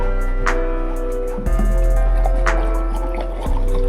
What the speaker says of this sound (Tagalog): At nilagyan ko ng tubig.